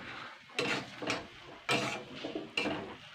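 Dry fish curry with eggplant being stirred in a cooking pan, giving three or four bursts of scraping and clattering spoon-against-pan strokes at an unhurried pace, close by and moderately loud, with no talk.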